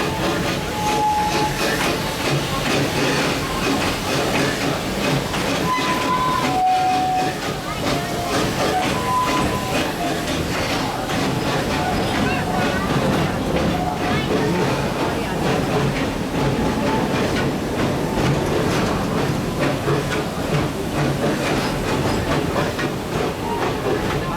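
A park train at Busch Gardens Tampa rumbles steadily along the track with a continuous rolling clatter and hiss, while a voice speaks over it throughout.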